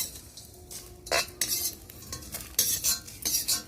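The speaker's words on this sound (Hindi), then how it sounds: "मसाले भून गए हैं, तो इसको हम निकालते हैं कढ़ाई से अलग" Roasted spices are scraped and scooped out of a metal kadai with a spoon in bursts of loud scratchy rattling, separated by short pauses, close up and with no voices.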